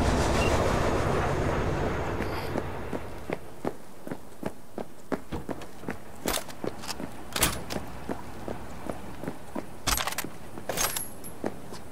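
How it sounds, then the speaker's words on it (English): A train pulls out in the video game Cyberpunk 2077, opening with a loud rolling rumble that fades after about two seconds into quieter clicks and scattered sharp metallic clanks. "All right, the train's leaving."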